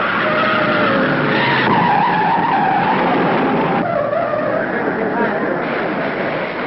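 A race car at the 1955 US Grand Prix skids tail first out of the north turn into the home stretch, a long loud tire squeal over engine roar, with an announcer talking throughout.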